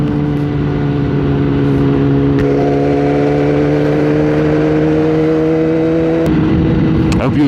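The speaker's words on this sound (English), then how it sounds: "We'll just enjoy the sound of the bike" Motorcycle engine droning steadily while riding along autumn roads, a strong continuous hum with a shift in pitch near the end as the bike changes speed, loud and close with wind underneath.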